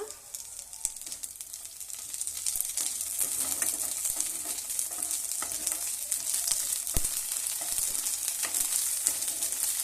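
Onion fries in ghee or oil alongside cashews for ghee rice, a constant close sizzle and crackle broken by occasional ticks of a spoon against the pan.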